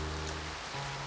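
Steady rain falls into darkness as a soft, even hiss with a low tonal hum beneath, continuous and faint, with no talking.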